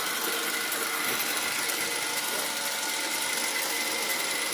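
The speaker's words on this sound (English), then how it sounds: "The gearboxes sounds like a gearbox. Some square cut gears." A 1940s South Bend 13-inch lathe with a square-cut gear gearbox running, giving off a continuous, even mechanical whir and rattle at close range, steady in level from start to finish.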